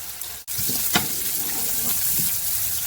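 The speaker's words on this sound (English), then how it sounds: "as I'm sauteing the onions and the garlic and the olive oil" Onions and garlic sautéing in olive oil with dried thyme for a Spanish Swiss chard and potato dish, giving a loud, steady close sizzle broken by a brief cut and a few soft stirring knocks.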